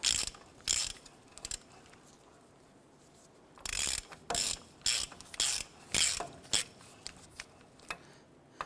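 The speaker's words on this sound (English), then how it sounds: "I'm going to go ahead and use a 27mm socket on this, and we're going to tighten this down as we rotate the brake rotor here." A ratchet with a 27mm socket tightens the spindle nut on a 1993-1997 Ford Ranger front hub, a series of loud close clicking bursts in uneven strokes separated by short pauses.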